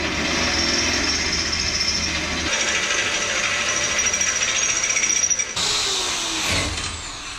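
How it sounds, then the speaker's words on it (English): A Sawzall reciprocating saw cuts through oak boards during work on a 1990 Ram 350 truck, its continuous buzzing rasp changing pitch partway through and ending with a sudden shift near the end. "I guess she's going to come back with the Sawzall and cut through there the rest of the way."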